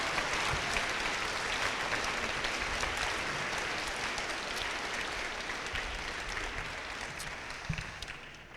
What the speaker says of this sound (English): give your teachers a round of applause for a job well done